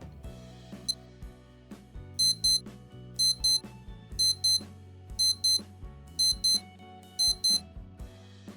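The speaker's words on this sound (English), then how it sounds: "we can do an alarm test by pressing and" Casio RKA-508 Rookie digital watch sounding its daily alarm test: short bursts of rapid high-pitched beeps in a steady repeating pattern, about seven groups, over faint background hum.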